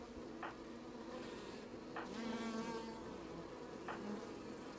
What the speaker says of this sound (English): Oh, you can hear the bees.